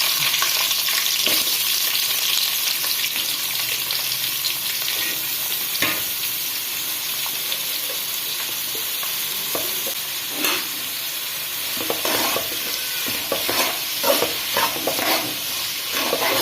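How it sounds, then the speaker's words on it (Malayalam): Onions sautéing in coconut oil on a wood-fired stove for chicken curry, a steady close sizzle and frying hiss with intermittent scraping stirs throughout, no talk. "വെളിച്ചെണ്ണ ഒഴിച്ചിട്ട് നമുക്ക് ഈ സവാള ഒന്ന് വഴറ്റിയെടുക്കാം"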